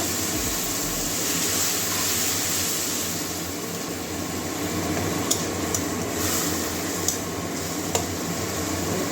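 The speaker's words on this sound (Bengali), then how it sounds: "ওই যে টমেটো থেকে যে পিসগুলো বের করেছিলাম ওগুলো দিয়ে মশলাটা কষিয়ে নেব" Spice paste cooking down with tomato pieces in a pan for a tomato and egg dish, giving a steady broad sizzle throughout with a few faint clinks of a utensil.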